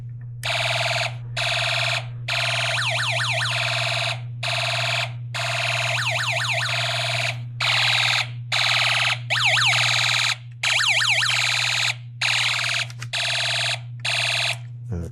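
Snap Circuits electronic siren module wailing loudly, a harsh electronic siren tone broken into bursts and gaps as a photoresistor is covered and uncovered, with a steady low hum beneath.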